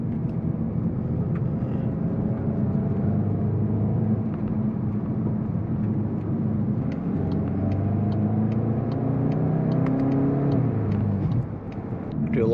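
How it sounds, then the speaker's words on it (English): A 2023 Volkswagen Golf GTI hot hatchback in sport mode, its engine droning loud and close inside the cabin, then rising in pitch as it accelerates hard before easing off near the end. "Do a launch at this light."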